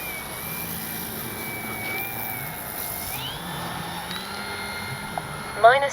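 An FMS 1400mm Pitts V2 radio-controlled biplane flies overhead, its electric motor whining in a steady rising and falling tone at moderate distance, with people talking nearby and a brief louder burst at the end.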